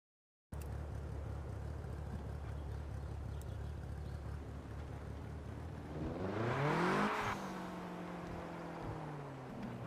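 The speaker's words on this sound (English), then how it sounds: "put it on second gear and handbrake while accelerating to rev it" A car engine in the video game CPM2 is held in second gear with the handbrake on and revved for drifting, a steady drone that surges sharply, peaks, then falls back to idle with no talk over it.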